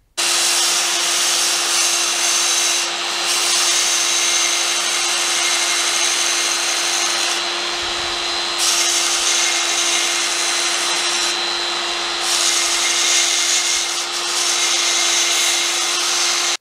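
A small mini grinder bought from AliExpress grinding a metal nail, giving off a steady high-pitched motor whine with constant harsh abrasive hiss that runs without a break for over fifteen seconds, close by.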